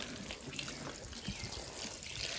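Water trickling and pouring steadily into a watering can, a continuous close splashing stream in a high tunnel greenhouse, with no talk.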